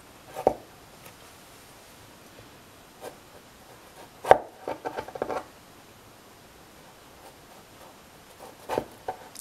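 A knife cuts a cucumber carefully on a board in a few scattered strokes: a single sharp chop, a quick cluster of taps, then another cut, with near silence between them.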